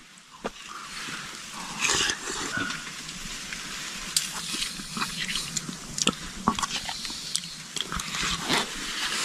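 Warm cherry pie eaten outdoors at a winter campfire, with close, wet chewing and biting sounds in irregular bursts over a crackling outdoor background, no talk.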